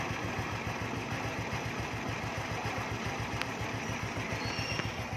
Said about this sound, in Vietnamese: Máy nổ quá anh em